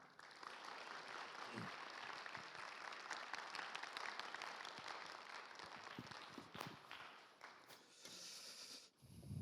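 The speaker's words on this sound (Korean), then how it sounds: "우리 목사님 나오실 때 박수로 환영하겠습니다" Chapel congregation at a theological university claps to welcome a pastor coming forward, a steady, fairly faint round of applause with scattered footsteps and shuffling, tapering near the end.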